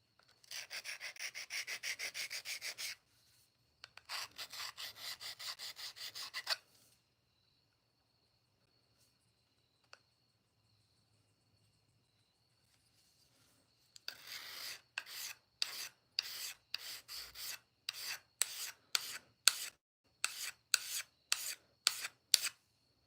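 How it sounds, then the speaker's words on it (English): A pocket knife being sharpened on the finest stone of a Lansky sharpener: two long bursts of steady rasping strokes, a pause, then a run of short, evenly spaced scraping strokes, close and clear with no talk. "This is for my Lansky sharpener for my pocket knives."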